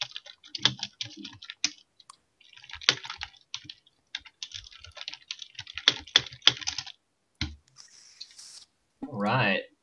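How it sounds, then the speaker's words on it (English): Rapid, irregular computer keyboard typing comes in bursts of clicks throughout, close and fairly loud, with brief pauses between runs and a short tonal sound near the end. "We only type when you show us on screen."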